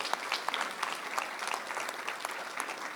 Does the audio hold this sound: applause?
yes